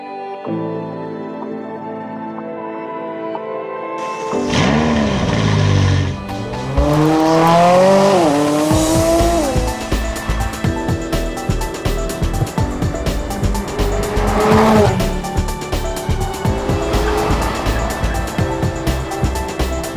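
A McLaren 570S Spider supercar roars up through the revs on a test drive, engine note climbing in pitch with gear changes, then settles into a loud, steady drone that pulses through the rest of the run.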